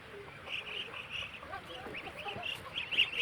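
Ducks in a Bangladeshi village quacking and honking together while being fed chanda fish heads, a busy overlapping chorus of calls throughout, fairly close and lively.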